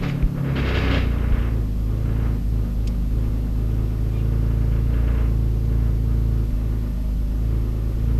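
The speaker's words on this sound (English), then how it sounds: "it's going to be a cold startup on the Camaro." A Chevy Camaro engine cold-starting inside the car, a sharp crank and burst of revs settling into a loud, steady low rumble that fills the whole stretch with no talking.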